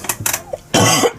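A few short throat sounds, then one loud, close cough bursts out and cuts off abruptly.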